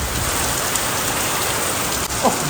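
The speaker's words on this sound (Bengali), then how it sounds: "বাইরে মুসল ধারায় বৃষ্টি হচ্ছে" Heavy rain pours steadily outdoors, a loud, dense, unbroken hiss of drops hitting surfaces close by with no voices over it.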